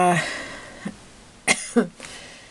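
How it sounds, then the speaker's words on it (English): A brief stretch of talk, then a few sharp, harsh coughs in close succession, loud and close. "I go into a fit of coughing"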